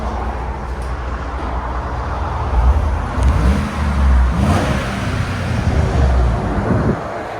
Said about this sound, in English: It's got a little bit deeper tone to it now. What do you guys think? Huh. It's really quiet at idle.